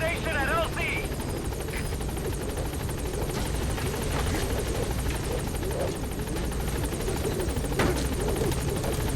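A helicopter in Metal Gear Solid V The Phantom Pain whirs steadily at a landing zone, its rotor drone continuous and moderately loud, while a voice talks over it.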